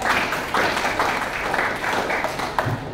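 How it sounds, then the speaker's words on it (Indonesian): Audience clapping at an Indonesian talk, a steady wash of many hands filling the whole stretch, fairly loud, with a brief murmur of voices near the end. "tepuk tangan buat kita"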